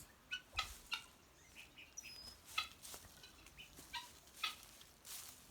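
Guinea fowl give sharp, repeated calls in quick bursts at a moderate distance, with short pauses between them and no talking.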